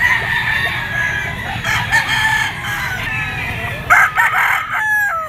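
A yellow-legged gamecock, a white kelso crossed with sweater, crows repeatedly and loud amid other roosters and clucking fowl in a busy yard, with overlapping calls throughout.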